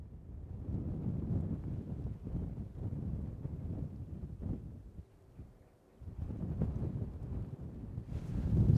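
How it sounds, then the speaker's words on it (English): Wind gusts across the exposed ruins of Dryslwyn Castle in Wales, buffeting the microphone with a low, rumbling roar that briefly drops away midway before surging back stronger, with no voices. "the wind's picked up, getting quite cold"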